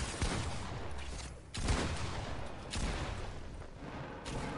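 Dense bursts of rapid gunfire from the video game Fortnite, several players all shooting at once in repeated loud volleys separated by brief lulls, close and continuous with no talk.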